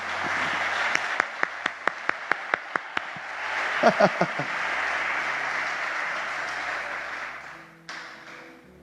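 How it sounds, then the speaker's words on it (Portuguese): A church congregation at a worship service claps and applauds. A spaced run of single claps builds into a steady wash of applause, with a voice speaking over it. "Aplauda, aplauda, aplauda."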